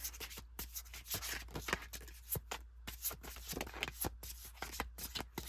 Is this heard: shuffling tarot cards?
yes